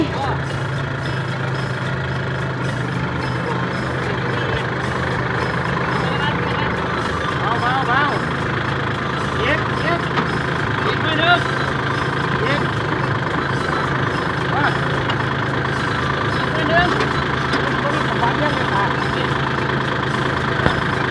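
A tractor engine idles nearby with a steady low rumble that runs the whole time, while people talk over it as workers move a water jar.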